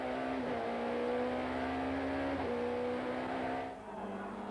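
Ford Mondeo touring cars at Kyalami, with Mike Briggs among them, storm past a Class B car at Goodyear Corner in the 1994 South African Touring Car Championship, loud sustained engine roar with pitch sweeps as they pass, fading near the end.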